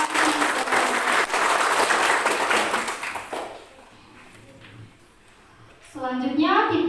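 Audience applause at a high school student council chair and vice-chair candidate debate, loud and dense for about three seconds, then thinning out as a voice begins speaking near the end.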